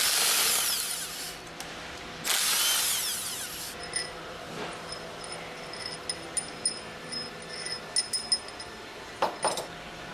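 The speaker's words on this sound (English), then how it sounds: "Use the impact wrench with a 10mm hex drive attached to remove the remaining 6" An impact wrench with a 10mm hex drive whirs in two loud close bursts while removing retaining bolts from a General Pump KF pump, followed by metallic clinks and taps from handling the parts.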